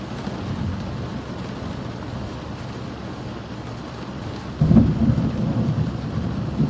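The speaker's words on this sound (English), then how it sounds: "So I wonder how long we're gonna have rain." Steady rain falls outside with a low rumble of thunder building underneath, then a louder thunder roll swells near the end, no voices.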